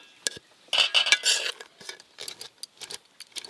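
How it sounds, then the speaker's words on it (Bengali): A spoon mixes zarda pulao in a dish, giving a quick series of close metallic clinks and scrapes in irregular bursts, fairly quiet, with no voices. "ভালো করে মিশিয়ে নেব, তারপর সবাইকে দেব।"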